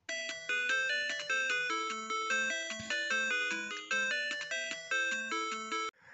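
The original Tetris theme: a bright, chiptune-style melody played in quick bouncing notes over a simple bass line, steady rhythm, clean and electronic, with no talking.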